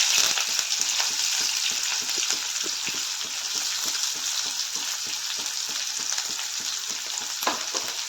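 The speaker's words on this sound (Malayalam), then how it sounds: "ചെറിയുള്ളിയും ചേർത്ത് കൊടുത്തിട്ട് നല്ലപോലെ വഴറ്റണം." Shallots sauté with mustard seeds in hot coconut oil, a dense, even sizzle with a quick, regular run of stirring clicks and pops throughout, close up and without talk.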